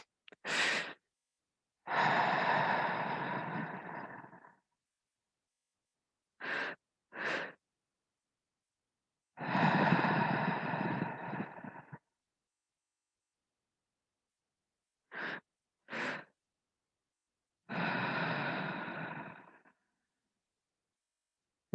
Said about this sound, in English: I'll ask you to take 3 big inhalations